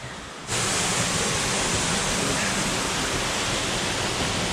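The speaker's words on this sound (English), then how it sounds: "we made it back down to the main waterfall" The main waterfall at a campsite roars loudly and constantly after a short quieter opening, a dense wash of falling water with no voices.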